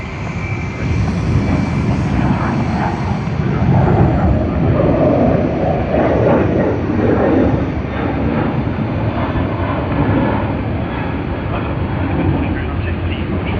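A loud, steady roar of a jet airliner's engines at Sydney Airport fills the whole stretch, broad and rumbling without letup, close and sustained with no clear rise or fade.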